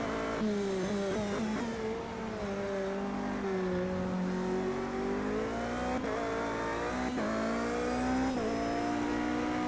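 Race car engine in an endurance racing game at Daytona road circuit, loud and close, revving steadily with pitch rising and dipping through gear changes and brief tire squeal, continuous with no talk.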